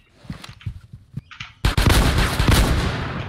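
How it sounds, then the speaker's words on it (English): Shotgun fire in the survival game Blacklands, a few scattered shots followed by a loud, dense burst of rapid gunfire that keeps going to the end. "I shot him with a shotgun."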